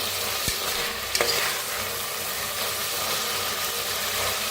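Spices roasting in oil in a pan for masala rice, giving a dense continuous sizzle with a couple of sharp clinks of a spoon, close and steady, no talk.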